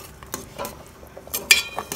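A spoon stirs pork curry in a cooking pot, giving several quick metallic scrapes and clinks against the pot in an uneven rhythm, close and clear with a soft sizzle between, no talking.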